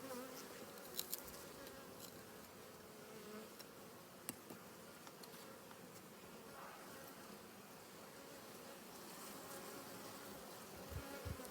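A soft, continuous buzzing of Carpathian honey bees, fairly faint and even, with a couple of light knocks along the way.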